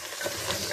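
Mutton paya sautéing in a pot gives a brief, steady sizzle and hiss with soft stirring texture, close and moderately loud throughout.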